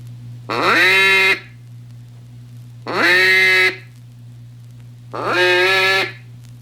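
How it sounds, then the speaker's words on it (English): Three long, drawn-out nasal quacks from a duck call playing a lonesome hen call, evenly spaced and loud up close, with a faint hum underneath. "The lonesome hen call."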